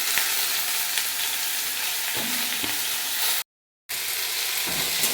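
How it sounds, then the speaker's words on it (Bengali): Thinly sliced potatoes fry in a pan with turmeric and salt, a dense close hiss of hot oil with occasional stirring, briefly cut to silence partway through. "আলুগুলো ভেজে নেবো সরু সরু করে"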